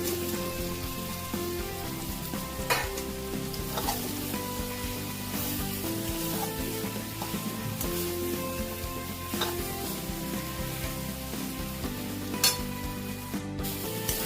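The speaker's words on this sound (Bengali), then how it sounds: "সেদ্ধ করে রাখা আলুগুলো দিয়ে দিলাম।" Boiled potatoes stirred into a ginger-garlic spice masala, frying in a pan while cooking egg kosha. A steady close sizzle runs throughout, with occasional scraping and utensil clinks from the stirring, and no talking.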